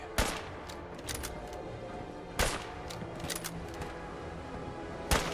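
Gunfire from unseen enemies in Fallout 4, distant sharp shots cracking at irregular intervals, a few loud reports standing out from scattered fainter pops over a low ambient background, no talk.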